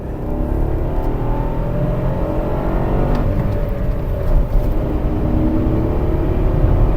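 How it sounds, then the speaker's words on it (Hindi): Loud, steady engine roar from inside a Stage 1 tuned Skoda Kylaq as it accelerates hard, the tone rising gradually through the gears. "भाई सडन एक्सेलेरेशन है इस गाड़ी का"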